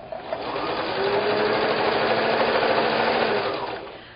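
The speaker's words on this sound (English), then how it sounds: "We're going to sew these end to end." A sewing machine runs steadily while chain-stitching fabric strips end to end for a quilt block, a close, loud, even mechanical whir that starts up, holds for several seconds and winds down, with no talking.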